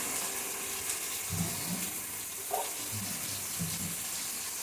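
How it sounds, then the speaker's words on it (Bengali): Water poured into a bowl in a home kitchen while cooking, a steady close hiss and gush of running water with a few faint clinks, no talking. "বাটিটার মধ্যে জল দেওয়ার জন্য জল নিয়ে রাখছি"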